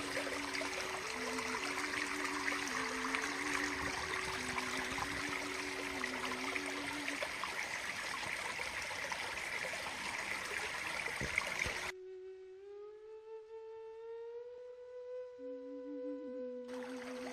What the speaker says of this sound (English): We're still on this little side branch of Coker Creek.